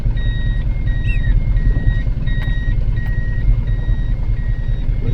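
A vehicle's reversing alarm sounds over a low engine idle: a series of clear, evenly spaced electronic beeps repeating steadily and fairly close, with no talking.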